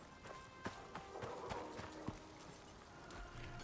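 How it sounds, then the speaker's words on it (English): Horse hooves clip-clop in the survival video game Icarus, a fairly quiet run of uneven beats with a few sharper strikes, no talking over it. "I think our primary mount for now on, though, is going to be the horse."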